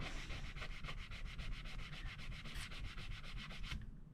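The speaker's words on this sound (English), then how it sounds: "So this is the cleaning, polishing pad thing." A folded cleaning and polishing pad rubs steadily over guitar frets during a fret-polishing job, making a continuous, close, rhythmic scrubbing with regular back-and-forth strokes that stops abruptly at the end.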